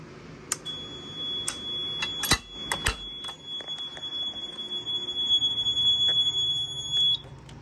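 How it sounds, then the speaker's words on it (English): A fire suppression system alarm rings during a test, a steady high electronic tone held for about seven seconds, with scattered clicks and knocks from handling equipment nearby. "Okay, system alarm, release, manual release."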